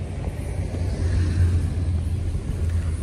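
A Madalimas intercity bus idles at Arjosari bus terminal in Malang, a deep steady engine rumble close by that swells slightly midway. There is no talking.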